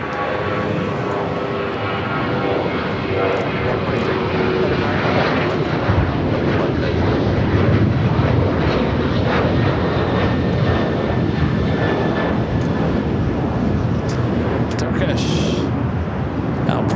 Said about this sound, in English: runway 25 right, clear for takeoff, Air China 988 heavy